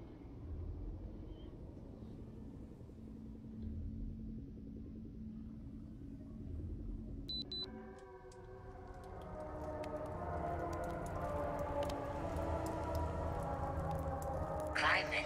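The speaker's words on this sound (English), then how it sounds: "Sounds like we've still got a storm raging out there." Rumbling storm ambience in the video game The Solus Project, a steady low roar with windy whooshes that swell in the second half, while a person talks over it throughout.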